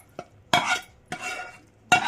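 A spoon stirs sambar for idli in a cooking pot, giving three separate scraping swirls with short pauses between them, close and fairly loud, with no voices.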